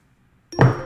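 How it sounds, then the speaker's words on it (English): A phone dropped onto a surface, giving one sudden knock-like thud with a short rattle that fades over a fraction of a second, near and fairly loud after near silence. "I dropped my phone, so it made that little noise"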